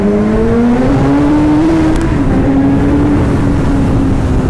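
A car engine drones loudly through a tunnel, pitch climbing steadily as it accelerates, with a dense, reverberant roar throughout.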